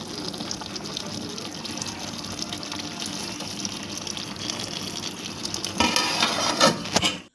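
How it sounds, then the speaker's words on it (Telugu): Dishes that held coriander, mint, onion and tomato paste being washed under a running kitchen tap, a steady water rush with clinks that grows louder and more splashy near the end. "కొత్తిమీర వేసిన గిన్నెలు ఇంకా ఆనియన్స్ టమాటా పేస్ట్ వేసినది గిన్నెలు కడిగేసి"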